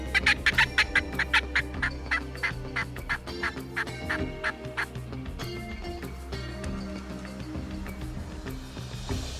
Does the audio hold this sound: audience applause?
no